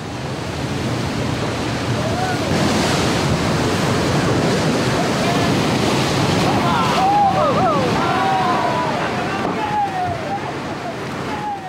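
Wild river rapids navigated by river guides in a rainforest, heard as a steady, loud broadband rush of water that fills the whole stretch, with faint bird calls rising above it midway.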